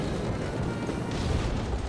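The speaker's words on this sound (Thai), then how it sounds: "แล้วก็มีเสียงปืนหนักนะ" Heavy gunfire in the survival shooter Last Island of Survival, a dense continuous roar of loud rapid shots and booms blending together without pause, close and alone.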